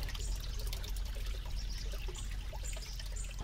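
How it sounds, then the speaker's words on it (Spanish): Stream water flowing, a continuous trickling and burbling with small splashes over a low rumble, moderately close, with no voices. "ese ruido del agua fue muy especial"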